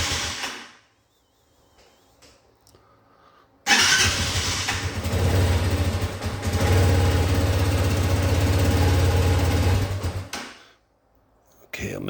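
A 2022 Bashan Brozz 250 motorcycle on full choke fires up after quiet cranking, then settles into a loud, steady near idle for several seconds before shutting off.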